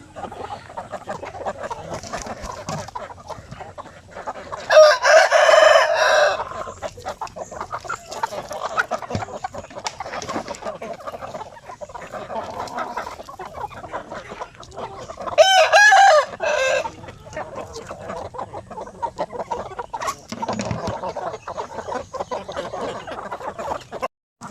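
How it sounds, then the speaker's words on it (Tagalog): Chickens and roosters on a breeding farm cluck steadily throughout, with two loud bursts of crowing rising above the flock; no one speaks. "So yun nga no. Dami nating manok dito."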